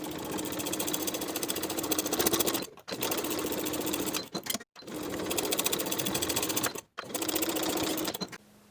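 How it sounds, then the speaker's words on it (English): A sewing machine top stitches the seams on a bag panel in rapid, even mechanical bursts, running in four runs separated by brief pauses, close and clear with no talking. "we're going to top stitch these seams on the panel side"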